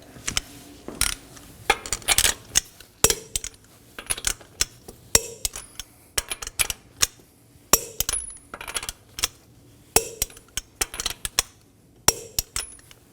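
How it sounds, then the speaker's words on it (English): Torque wrench clicking repeatedly as lug nuts on a Nissan Maxima wheel are tightened in a crisscross pattern, sharp metallic clicks and clinks in irregular bursts with short gaps, close and alone. "Now we're going to torque these lug nuts to 83 foot-pounds in a crisscross pattern."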